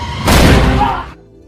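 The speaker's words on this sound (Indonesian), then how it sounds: "Nick yang mendengar suara tembakan dan melihat Brandon dalam bahaya, berniat untuk menyelamatkannya." A single loud, close gunshot-like blast with a brief rumbling tail that cuts off sharply.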